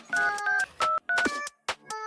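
Phone number being dialed on a mobile for a call during a gold-versus-silver food challenge, a quick run of separate keypad tones in an uneven rhythm, close and clear, with no talking.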